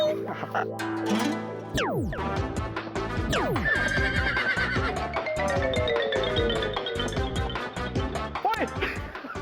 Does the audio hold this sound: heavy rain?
no